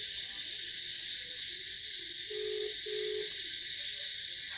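A phone call ringing out on speakerphone, a repeating pair of short ringback tones over a steady electronic hiss, faint and close.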